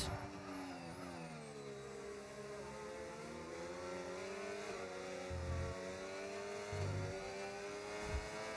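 A race car engine in a racing video game drones steadily as the car enters the pit lane, its pitch sliding and wavering with a few low thumps, loud and continuous throughout without talk.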